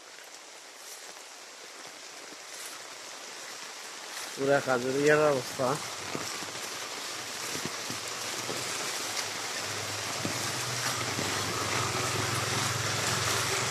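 Floodwater after rain runs along a street in the Adalat Para area of Khajuria, Baraipur, Feni, on the Azmiri road, a steady broadband rush throughout with a voice speaking briefly over it near the start.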